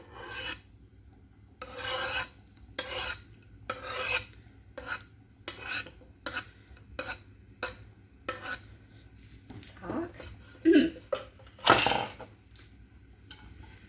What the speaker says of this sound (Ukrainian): і висипаю нашу цибульку. І моркву.